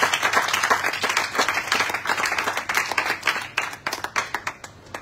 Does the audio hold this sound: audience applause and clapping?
yes